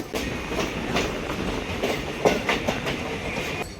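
The 12363 Haldibari Superfast Express runs on the rails near the Dankuni outer on its way from Kolkata, heard from inside as a steady rumble with rhythmic clickety-clack beats.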